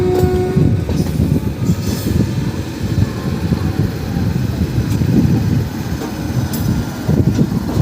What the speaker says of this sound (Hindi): सामने किसी ट्रेन का डिपार्चर हो रहा है डीडीयू से